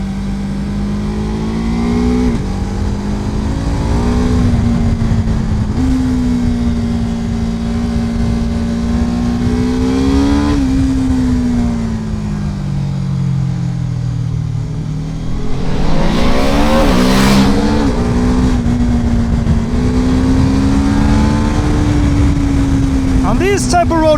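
A 2026 BMW F 450 GS motorcycle engine held in third gear above 4,000 RPM on a winding road: a loud, close, steady drone that rises and falls with throttle, with wind rush, under continuous talk.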